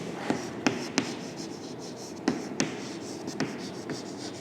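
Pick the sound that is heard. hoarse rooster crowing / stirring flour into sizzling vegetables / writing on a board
writing on a board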